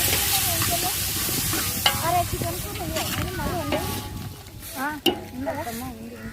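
Chopped tomatoes sizzle and fry in a pan for Telugu pappu charu, with a spoon stirring steadily throughout and a person talking over the cooking.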